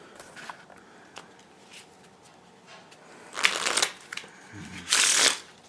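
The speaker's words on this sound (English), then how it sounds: "I'm shuffling the cards face up for some unknown reason" DeckStarter playing cards are shuffled face up, with a few soft handling taps and riffles, then two loud, close bursts of rapid riffle-shuffle snapping, each lasting under a second.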